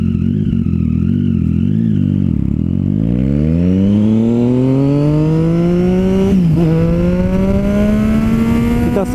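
A car engine running rough because its idle won't hold, revving up and down loudly and close by, its pitch dipping low and then climbing in long sweeps, with no one talking.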